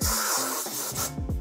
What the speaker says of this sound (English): I'm just going to give the thread in there a little spray with some brake cleaner